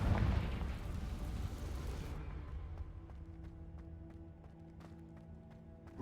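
A Confringo fire spell from Hogwarts Legacy detonates in a loud, rumbling burst at the start. The blast decays into a lingering low roar with a sustained tone over the rest of the clip, and no one speaks.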